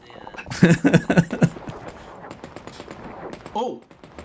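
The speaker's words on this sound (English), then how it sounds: "Well, that's a lot of gunfire." Bursts of gunfire ring out in the shooter game The Cycle: Frontier, a quick rapid volley of shots followed by a fainter later burst, with players talking around it.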